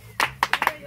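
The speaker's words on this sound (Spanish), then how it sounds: "¡Échenle palmas, palmas!" A small group of women claps along to a song, about five sharp, close hand claps in a quick uneven rhythm over a short burst.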